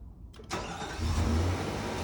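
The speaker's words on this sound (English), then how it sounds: "Go ahead and start that car up right now." A 2022 Infiniti QX60 engine starts with a brief starter whir, then catches and settles into a steady close idle with a low rumble.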